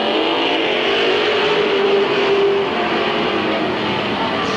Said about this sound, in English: They'll be going 30 green flag racing laps.